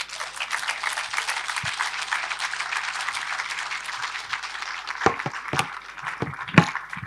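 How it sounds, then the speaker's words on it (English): Audience applause at a sales and growth summit as a speaker walks off stage, a steady wash of many hands clapping throughout, with a few louder individual claps standing out near the end. "A round of applause as he exits the stage."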